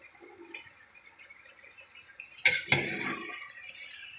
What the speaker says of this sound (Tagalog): At lalagyan ng tubig.